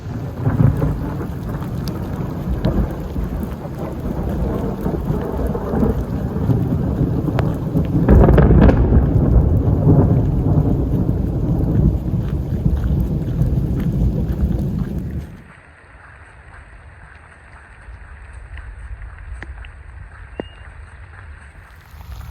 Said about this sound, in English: if you've never walked in the forest during a thunderstorm, I'd recommend it.